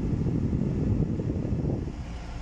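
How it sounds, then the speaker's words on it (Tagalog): A steady, noisy rush of blown air from a faulty car air conditioner blower motor, with a low motor drone, constant and close, with no voices. "Maingay yung pagpuga niya ng hangin dito"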